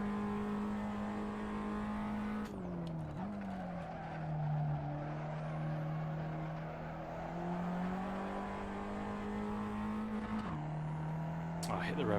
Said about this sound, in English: Oh, I hit the rev limiter a bit too hard there.